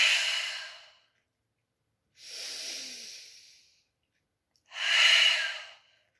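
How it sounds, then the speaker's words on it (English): Three slow, breathy exhalations through an open mouth during a yoga breathing exercise, each airy whoosh lasting about a second or more with quiet pauses between them, close and clear. "Exhale the open mouth."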